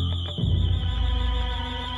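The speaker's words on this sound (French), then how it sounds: "L'alarme retentit, stridente, assourdissante." A shrill house alarm rings at a burglarized home during a gendarmerie call-out, holding one piercing, steady tone for the whole stretch over a low rumble, loud and close.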